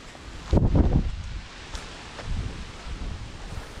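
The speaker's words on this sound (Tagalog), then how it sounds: "Lakas ang hangin." Strong wind gusts through mango tree foliage, with a loud rustling burst early on and then softer, steady rustling and buffeting noise.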